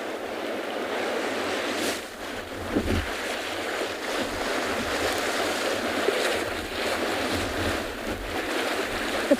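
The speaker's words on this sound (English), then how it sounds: "the wind is blowing from the northwest today" Steady northwest wind roars at an African penguin beach by the sea, with surf washing underneath. A continuous broadband rush with a few small gusts and thumps, and no voices.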